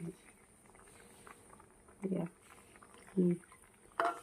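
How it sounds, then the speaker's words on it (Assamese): Lentils boil in a pot in a home kitchen, giving faint, sparse bubbling plops that pop up every second or so over a quiet background. "মাটিগুলো এইখিনি উতলিছে"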